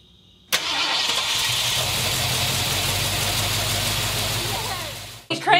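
A 1973 Ford Bronco engine starts for the first time, catching abruptly and then running in a steady, loud, rough idle for several seconds before it cuts off near the end.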